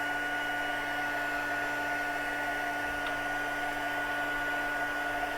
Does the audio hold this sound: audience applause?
no